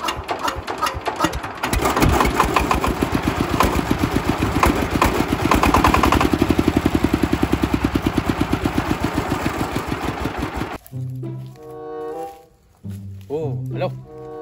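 A small engine is hand-cranked and fires up, giving a loud, fast, rattling run of pulses that lasts several seconds before cutting out, followed by a few shorter tonal bursts.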